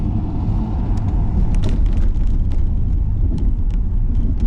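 A 2005 Mercedes CLS55 AMG roars under hard acceleration, a loud, steady, close engine rumble and exhaust drone held throughout with no voices.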